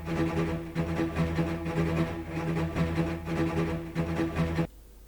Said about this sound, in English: Here I have a setup with just a simple string loop